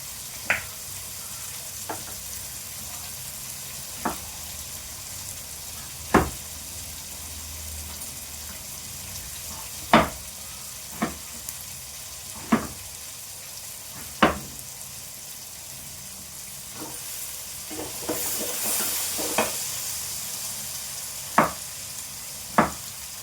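Potatoes, double beans and brinjal are stir-fried in a pan for sambar, with a soft continuous sizzle broken by a dozen or so sharp scrapes and clinks of the spatula at irregular intervals.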